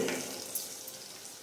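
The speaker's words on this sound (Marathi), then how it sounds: "कांदा व्यवस्थित भाजून घेऊया" Onion and cumin fry in a pan as the base for pulao, a faint, steady sizzling hiss with a small tap or two from stirring, heard alone.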